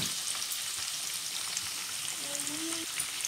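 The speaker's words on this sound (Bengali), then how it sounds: "পেঁয়াজ দিলাম, অয়েলটা গরম হয়ে গেছে।" Sliced onions frying in hot oil for a braised boal fish curry, a steady soft sizzle throughout with a brief clink near the end.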